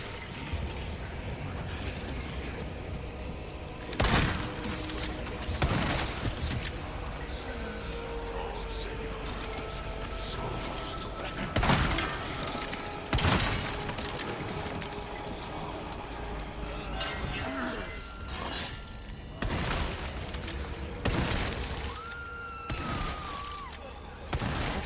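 Gunfire and impacts in the Resident Evil 4 Remake video game, several loud sharp shots spaced irregularly over a busy game soundscape, with a player talking at times.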